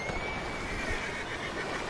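Horses in a video game neigh and whinny in one brief, fairly close call, standing alone over a steady background hiss.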